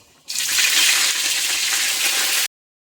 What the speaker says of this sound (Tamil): கடுகு போட்டுக்கணும். அப்புறம் வெந்தயம், அப்புறம் கருவேப்பிலை.